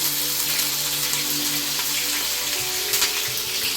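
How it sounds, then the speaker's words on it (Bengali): Spices and dried chillies temper in hot oil with a loud, crackling sizzle that holds steady throughout. It sounds close, with brief spatters popping out near the end. "এটা আমি একটু ফোড়ন দিয়ে দিচ্ছি। আর দিয়ে দিলাম শুকনো কাঁচা লঙ্কা।"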